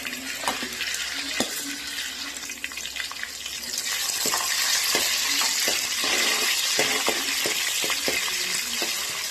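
Green chillies dropped into a pan of browning onions for a Kerala-style tuna coconut fish curry, a loud steady sizzle of frying oil that swells after the first few seconds, with repeated taps and scrapes of stirring.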